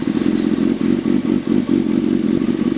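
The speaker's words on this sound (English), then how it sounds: "the bike's idling right now" A motorcycle engine idles steadily up close, with a loud, continuous low rumble and a rhythmic mechanical clatter throughout.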